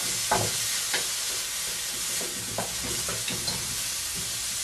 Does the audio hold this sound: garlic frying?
yes